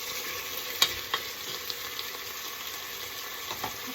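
Chicken sautéing in a pan with fish sauce for tinola, a steady soft sizzle with a few sharp clicks of stirring, close and alone with no voices.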